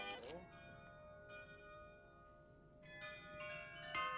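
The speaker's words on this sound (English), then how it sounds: "The softly sounding chimes from Maria Loreto's Pilgrim Church near Loreto Place." Church bells of the Loreto pilgrim church in Prague chiming softly, a few struck ringing tones with long resonant decay, faint and distant over low outdoor background hum.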